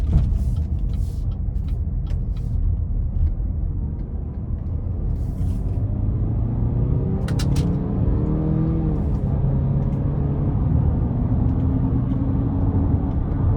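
A 2024 Cadillac XT6 Luxury AWD with a 2.0-litre turbo engine accelerates, heard from inside the cabin, its low engine drone rising in pitch and dropping at quick paddle-shifted gear changes, steady and fairly loud.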